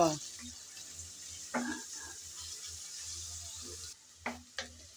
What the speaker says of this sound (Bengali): এখন নেড়েচেড়ে হালকা করে ভেজে নেব।